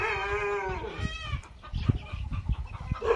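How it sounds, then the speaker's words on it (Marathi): Rooster on a farm giving a drawn-out crowing call up close, followed by scattered knocks and shuffling noises. "कोंबडा एक आहे."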